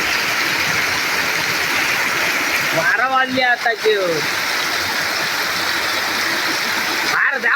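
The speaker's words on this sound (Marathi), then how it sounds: "काय पाऊस लागता तो बघा" Heavy rain pours down during a cloudburst in a steady, loud roar of falling water, and someone speaks briefly partway through over the constant downpour.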